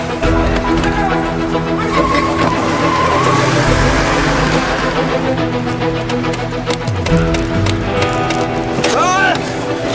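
A car is driven hard with its tires skidding and squealing while the engine roars on without a break. Voices sound over the loud, close driving noise.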